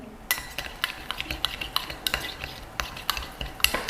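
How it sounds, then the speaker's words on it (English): A spoon stirs taro powder into hot water. It clinks and scrapes sharply against the cup at a quick, regular rhythm of roughly four strokes a second, close and clear, with no voices. "I would suggest that you use a spoon to dissolve the Taro powder"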